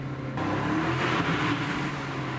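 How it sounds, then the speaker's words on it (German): A 2024 Aston Martin DB12 engine hums and swells steadily from inside the moving car, a smooth droning growl with faint road noise and no speech. "diesen typischen Aston Martin-Klang und auch dieses Ansprechverhalten"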